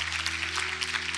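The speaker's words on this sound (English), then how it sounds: "You need to applaud him." Short stretch of audience applause at a university talk, a steady mid-level patter of many hands clapping over a constant low electrical hum.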